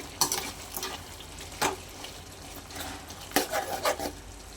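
Spicy chicken fries in a pan, a close, steady sizzle broken by several sharp bursts of stirring and scraping against the metal.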